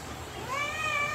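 Kitten meowing once, a short rising cry that swells and holds near and clear over quiet room background.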